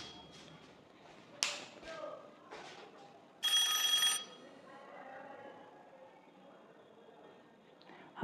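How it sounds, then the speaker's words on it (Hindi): A mobile phone rings in a quiet room, a few sharp bursts followed by a longer loud ringing tone, then fading to faint background noise with brief clicks. "अभी ही फोन आना था।"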